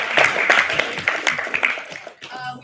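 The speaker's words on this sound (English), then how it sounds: "Can we please give a round of applause for my budget committee?" At a student senate meeting, a round of applause from the room fills the first two seconds with brisk, moderately loud clapping, then tapers off as a voice begins speaking.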